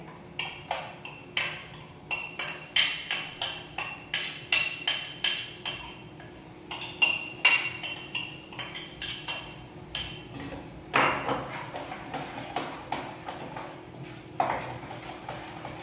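Rapid rhythmic clinking of a spoon against a bowl as a thick paste is stirred, steady and close, with a few louder scrapes near the end.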